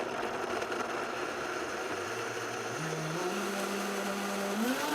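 A blender whirring through walnuts, garlic, lemon juice, olive oil and nutritional yeast for a red pepper dip, a continuous loud motor whine whose pitch climbs in steps as the mixture loosens.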